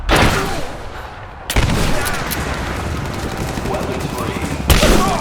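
Gunfire in Rise of the Tomb Raider, loud sharp bursts at the start, again at about a second and a half and near the end, with rattling rapid fire and battle ambience continuing between them.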